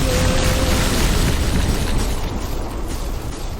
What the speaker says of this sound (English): Full power magic explosion.